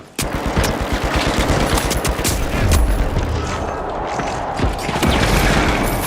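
Rifle gunfire from The Finals rattles in rapid, sustained bursts, loud and close, with dense overlapping shots, a low booming impact partway through, and mechanical clatter.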